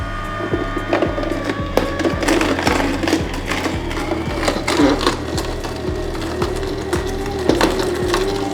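A Pigeon slow cold press juicer grinds carrots with a steady low motor hum, overlaid by repeated crunching, cracking snaps as the pieces are crushed close by.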